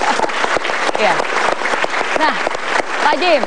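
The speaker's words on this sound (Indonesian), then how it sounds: "Luar biasa, tepuk tangan dulu buat Pak Deddy." A talk-show studio audience applauds warmly for a guest while someone speaks over the clapping, his voice riding on top of the steady applause.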